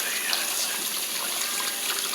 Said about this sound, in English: I'm going to go ahead and rinse those real good